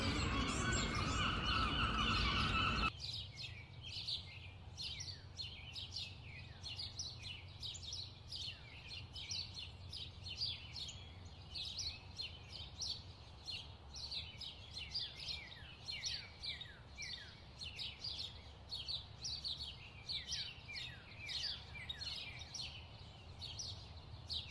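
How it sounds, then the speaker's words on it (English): Many birds chirp and sing in quick repeated calls across a quiet outdoor background in a Dublin park, after a brief louder burst of noise at the start. "you can hear all the birds"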